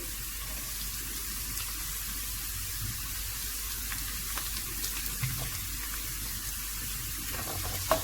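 Garlic and green chilies fry in hot oil for a rice tempering, giving a steady, even sizzle that holds for several seconds with a few faint clinks and no talk.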